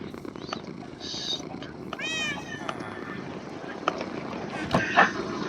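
Video-game cats let out several short meows and a wavering cry over a steady purring hum, with a couple of sharper clicks near the end.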